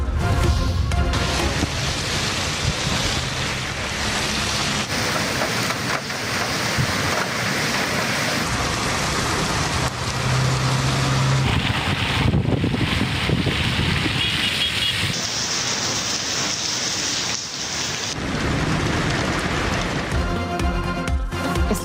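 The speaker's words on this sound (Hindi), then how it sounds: "इस्लामाबाद में गरज चमक के साथ बारिश और जालाबारी। तूफानी हवाओं से दरख्त गिर गए।" Thunderstorm with heavy rain and strong gusting winds in Islamabad, a loud continuous roar of wind and downpour with buffeting microphone rumble that surges and shifts over about twenty seconds, with no talk.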